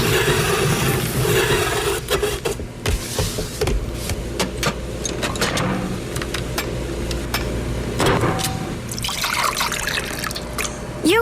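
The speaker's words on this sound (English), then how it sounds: "You wouldn't pour OJ this way." Orange juice pours in a steady, splashing trickle that runs continuously and close, with occasional brighter drips and gurgles and no talk over it.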